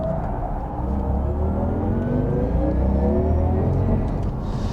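Porsche Taycan Turbo GT electric car driving on a race track, a loud, continuous electric whine and rising whir over steady road and wind rumble, with no talking.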